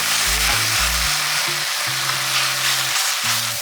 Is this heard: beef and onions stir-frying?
yes